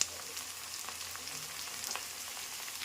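Ginger and chopped green chilli frying in oil in a pan for a crab curry, a soft continuous sizzle with faint crackles, steady and close, no talking.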